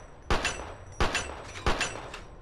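Three sharp in-game gunshots from Fallout 3 crack out at even intervals, each a loud broadband burst with a short decaying tail, sounding alone without talk.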